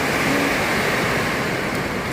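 Heavy Chennai rainstorm pours down in a dense, loud, steady wash of broadband hiss and roar, continuous for the whole stretch with no voices.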